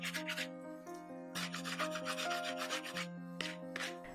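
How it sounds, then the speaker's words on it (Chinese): 80-grit sandpaper rubs back and forth over a handmade terrazzo piece under a trickle of running water, in close rhythmic scrubbing strokes over a steady low background hum. "开始打磨，将水槽中的水开得小一点"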